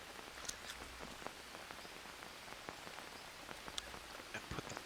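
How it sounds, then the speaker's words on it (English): Steady rain falls in the jungle survival game Green Hell, a dense continuous patter with scattered sharper drips on surfaces, fairly soft and even, with no voices. "we can also just put the bowls out in the rain and they'll collect rainwater."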